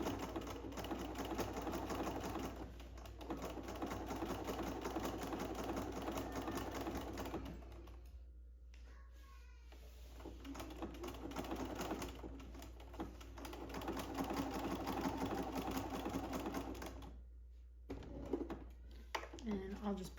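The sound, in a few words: sewing machine stitching minky quilt binding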